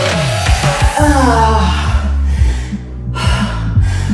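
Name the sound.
heavy breathing after intense exercise bike workout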